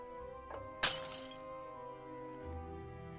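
A glass object shatters in the video game Prim, one sharp crash with a brief tinkling tail over a steady music and ambience bed.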